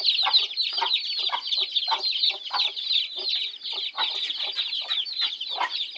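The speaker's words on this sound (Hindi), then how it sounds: "ये मुर्गियाँ हमने रखी हुई हैं।" Many backyard hens and about 20 chicks clucking continuously at close range, a dense chattering of overlapping calls with occasional sharper peeps; no talking.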